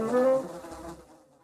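Rimsky-Korsakov's Flight of the Bumblebee plays as rapid, buzzing orchestral strings that imitate a bee, a brief bright flurry that fades out quickly.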